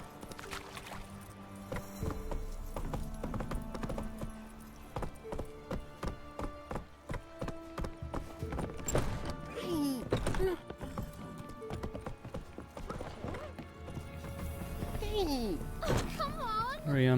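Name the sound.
horse Roach trotting, from video game Witcher 3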